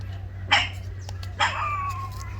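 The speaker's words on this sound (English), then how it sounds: "Don't mind our dog." A pet dog gives two short sharp barks indoors, followed by a thin drawn-out whine, heard fairly close over a low steady hum.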